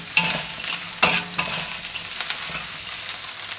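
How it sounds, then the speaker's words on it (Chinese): Golden egg fried rice with taro and dried scallops is stir-fried over high heat in a wok, making a loud, dense sizzle with sharp scraping tosses of the spatula and no talking. "全部放下去炒，大火爆炒"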